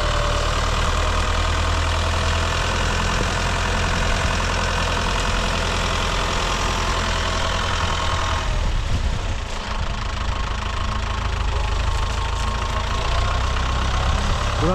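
A Başak 2073 tractor engine drones steadily and loudly while pulling a plough through deep field tillage, with a constant low rumble and no voices.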